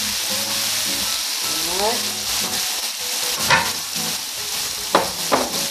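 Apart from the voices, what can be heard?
chicken frying in a pan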